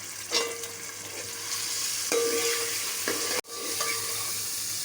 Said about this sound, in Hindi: गोश्त को थोड़ी देर ब्राउन कर लूँगी ताकि हो जाए